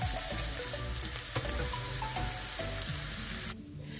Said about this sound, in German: In einer Pfanne habe ich nun etwas Öl erhitzt und da rein gebe ich nun die Hälfte unserer kleinen geschnittenen Zwiebeln